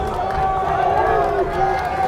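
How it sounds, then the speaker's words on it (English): A high school football crowd at Swampscott hosting Lynn English murmurs and calls out steadily through the whole stretch, a continuous mass of voices with a play-by-play announcer talking over it. "Crowd's calling for action. They want something to happen."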